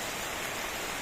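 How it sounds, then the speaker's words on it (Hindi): Heavy monsoon-style rain pours down steadily in India during a cycle procession, a dense continuous hiss filling the whole moment with no talking. "झमाझम बारिश हो रही है।"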